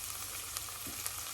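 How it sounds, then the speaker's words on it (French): Chopped leek sizzles in a hot pan for a vegetable velouté, a faint steady frying hiss with a couple of soft stir clicks and no talk. "je vais commencer à mettre le poireau"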